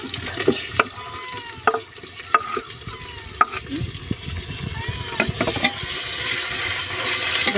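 Tomatoes stirred and sautéing in a pan give a soft, continuous sizzle broken by scraping stir strokes and spoon taps, while someone talks over the cooking.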